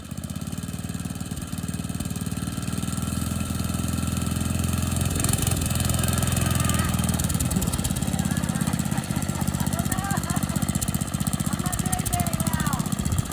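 An old mini bike's small engine runs loud and steady close by, sputtering and revving as gas is given and let off. Voices are heard faintly under the engine noise.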